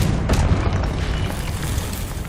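A Confringo blasting spell goes off in Hogwarts Legacy, a loud, dense burst of noise that swells quickly and rumbles on steadily for a couple of seconds.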